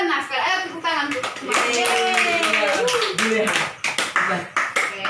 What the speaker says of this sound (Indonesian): Ayo tepuk tangan tuh.